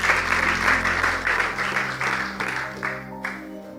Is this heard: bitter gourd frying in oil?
no